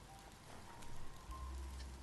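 Rain in the video game Biomutant, a faint, steady hiss of falling rain with a low rumble underneath, quiet and continuous with no talking.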